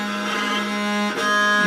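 A bowed string instrument sounds a sustained rich tone while the bow slips away from the bridge, the note steady and bright with a brief break near the end as the bow changes, played alone.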